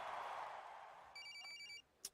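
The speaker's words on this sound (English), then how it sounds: "Oh, they call my phone again." A telephone rings with a bright electronic trill lasting under a second, fairly faint, following a soft whooshing noise and ending with a brief click.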